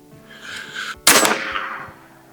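A single sharp, loud shot from a Hatsan Factor bullpup .357 regulated carbon airgun, a sudden crack following a quieter mechanical rustle, with a brief decaying tail.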